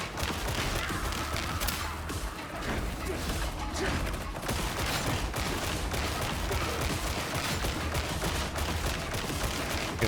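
Dense, continuous gunfire in the Warhammer 40,000: Darktide co-op shooter, a loud sustained barrage of overlapping shots and impacts with crashes mixed in, filling the whole stretch without a break.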